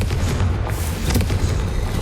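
A Confringo blasting spell from the Hogwarts Legacy video game erupts in a loud, sustained booming rumble that rolls on without a break, with no talk over it.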